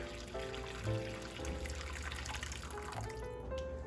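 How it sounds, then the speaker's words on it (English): Hot water is poured into a hotpot soup base while cooking Haidilao-style hotpot at home. It makes a steady, soft trickle and splash throughout, with faint tonal sounds in the background. "We add hot water in so it dissolves the base faster."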